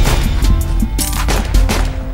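Shotgun fire in CS:GO Danger Zone, with a loud cluster of booming shots in quick succession close by over constant game noise and no talking.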